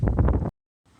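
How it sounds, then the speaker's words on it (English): Loud wind buffets the microphone for half a second, then cuts to near silence before a faint rumble of gusts returns. "really windy today"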